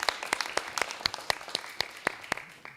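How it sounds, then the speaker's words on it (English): A small audience gives a round of applause for the guests of a panel discussion, sharp, fairly sparse claps at an even pace, close by and fading slightly toward the end. "Could you give them a nice little round of applause so they feel welcome?"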